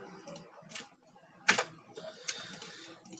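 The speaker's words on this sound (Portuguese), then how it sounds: "O teclado tá doido." A computer keyboard clacks in short, irregular bursts of close, crisp keystrokes with brief pauses between them, and there is some faint background noise.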